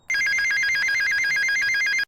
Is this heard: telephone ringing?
yes